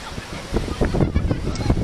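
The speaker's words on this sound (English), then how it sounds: "there are lots and lots of waves today because it just happens to be very, very windy" Surf rolls onto a windy beach at a hotel resort, with a constant roar of waves and gusting wind buffeting the microphone, loud and close throughout.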